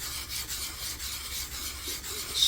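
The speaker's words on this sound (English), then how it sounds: "So I'm going to sand the backs of both of these" Sandpaper rasps steadily against the flat backs of 3D printed pylon parts for a water balloon drop mechanism, worked by hand in a figure-eight motion; the close, continuous scratchy strokes carry no talk.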